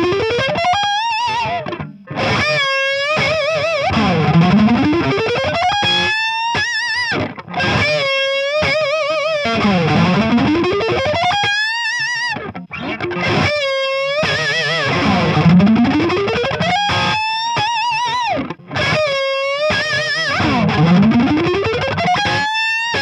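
Electric guitar run through a scale with a thick pick, heavily processed with distortion and chorus-like effects; sustained, continuous notes sweep up and down in repeated phrases, loud and close, with no talking.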